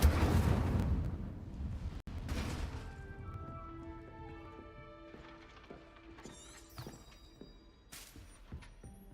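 In the Hogwarts Legacy video game, the Incendio fire spell bursts out with a sharp whooshing blast, followed by fainter ringing magical tones and scattered small impacts.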